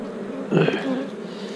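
Honey bees buzz during a hive inspection, a close, dense hum that swells briefly partway through and then holds steady, with a faint voice underneath.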